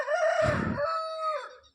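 A rooster crows once, close and loud, a long drawn-out call in a rooftop garden setting.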